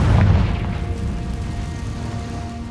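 A Confringo fire spell explodes in the video game Hogwarts Legacy, a loud low boom at the start that fades into a rumbling tail with a faint steady hum beneath.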